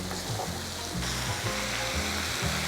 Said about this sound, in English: Add soy sauce, mirin, rice vinegar, and water. Then bring it to a boil.